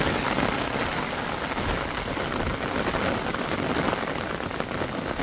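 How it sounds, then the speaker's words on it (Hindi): Heavy rain pours down steadily, a dense continuous hiss of drops drumming on surfaces, loud and close with no pauses. "देख लो कितना तेज बारिश हो रहा है"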